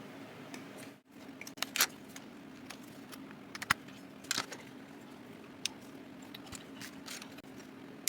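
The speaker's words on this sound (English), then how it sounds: "So we'll go ahead and start cutting things out." Plastic parts of a 1/350 Very Fire USS Missouri BB-63 model kit being snipped off the sprue: a few sharp, quiet clicks and snips scattered over a faint steady background hum, with no talking.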